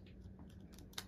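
Scissors snipping at an Animal Crossing amiibo card pack, a few faint quick cuts in a very short quiet moment with a slightly louder snip at the end.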